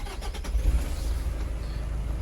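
A car engine starts with a few quick cranking bursts and then settles into a low, steady idle close by, with no talk over it.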